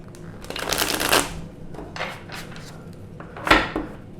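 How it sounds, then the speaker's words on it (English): Several bursts of cards being riffled and shuffled, close up, with brief pauses and a final sharp snap of the deck. "I'm going to shuffle one more time."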